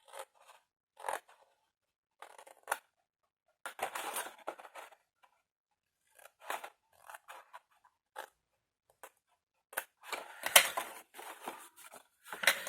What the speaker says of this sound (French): Et je coupe tout droit.